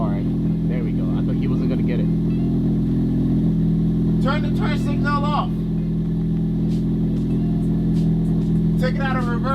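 A Ford Focus ST engine idles steadily in the background for the whole stretch, a low constant hum with people talking over it now and then.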